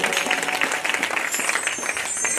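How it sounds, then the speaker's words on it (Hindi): Loud, dense applause from an audience at a Hindi devotional Harikirtan Manas gathering, a steady stream of many hands clapping close and continuous with no voices over it. "जोरदार ताली बजा दो"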